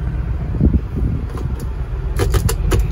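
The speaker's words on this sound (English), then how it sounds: "now let's take the 1997 Prado out for a drive" A 1997 Toyota Land Cruiser Prado 90 Series VX is driven, with a steady low engine and road rumble heard from inside the cabin and a few light rattles or clicks toward the end.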